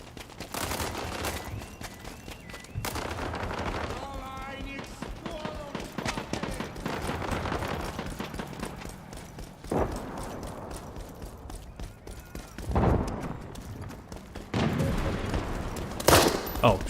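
Gunfire in a modern-era war video game from a gun held with a magwell grip, heard as repeated loud bursts and rapid volleys amid constant background game noise, with some talking mixed in.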